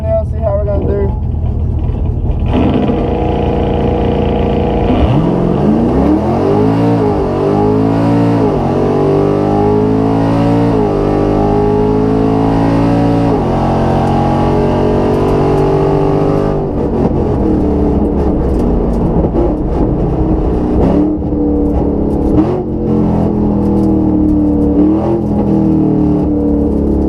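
A 6th gen Chevrolet Camaro SS on a drag strip in San Antonio roars through a full-throttle pass, engine note climbing through gear changes, loud and sustained throughout.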